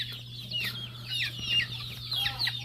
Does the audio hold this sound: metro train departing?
no